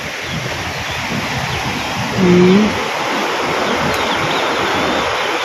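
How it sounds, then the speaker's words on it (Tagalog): Strong ocean waves roll and wash along a provincial shore in a broad, constant roar mixed with wind, loud and close, while a man murmurs briefly near the middle. "grabe, lalakas ng alon"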